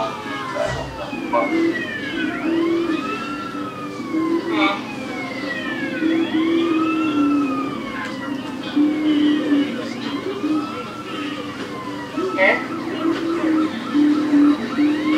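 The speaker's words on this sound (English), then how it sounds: "the ambulance." An ambulance siren in the game GTA San Andreas wails in repeated rising and falling sweeps, loud and close, over a low vehicle rumble.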